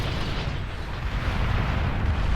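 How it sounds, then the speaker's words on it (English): Bombing run explosions in Beyond All Reason, a dense continuous rumble of overlapping blasts, loud and sustained without a break. "Bombing run intended to take out some of that army."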